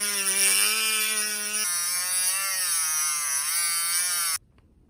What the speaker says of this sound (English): I once again used the Dremel to kind of trim down these notches that hold the plate in.